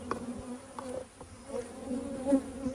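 Honey bees buzzing around an open hive during a colony split, a steady close insect drone with shifting pitch as individual bees pass near, no voices.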